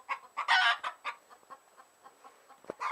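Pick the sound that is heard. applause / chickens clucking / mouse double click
chickens clucking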